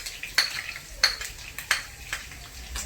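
Garlic frying in hot oil for chicken halang halang, a soft continuous sizzle punctuated by three or four sharp scrapes and clinks of a utensil stirring against the pan, fairly quiet with no talking.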